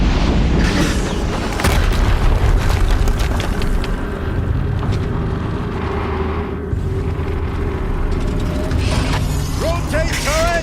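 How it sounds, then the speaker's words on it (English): Heavy booming blasts and mechanical rumbling from combat in Horizon Zero Dawn, loud and dense with layered impacts, metallic clanks and brief voices over the chaos. "Another explosion."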